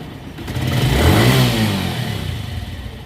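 A TVS motorcycle engine starts and revs up close, a loud throaty roar rising then easing back within a few seconds, with no voices.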